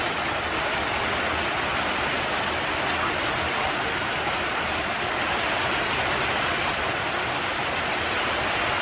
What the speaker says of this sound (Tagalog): grabe ka kusog sa ulan diri guys karong gabi